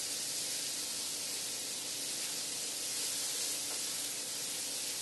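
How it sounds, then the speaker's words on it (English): Onions sauté in a hot skillet used for skillet chicken, browning in the pan drippings. A loud, steady, hissing sizzle runs unbroken throughout, with no talking. "Just want to get a little color on the onions."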